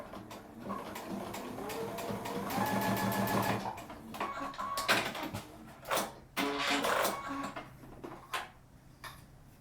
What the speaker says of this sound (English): Now I'm gonna sew it down a little bit so that it's really on there.